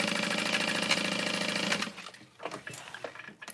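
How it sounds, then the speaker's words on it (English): A sewing machine stitching the bottom panel of a custom backpack, a steady loud whirring drone for nearly two seconds that then stops, followed by quieter handling clicks and fabric rustles. "sewing the bottom panel on now"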